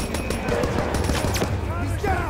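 Rapid bursts of gunfire ring out in Call of Duty: WWII, loud and repeated in quick succession, with a voice talking over the shooting.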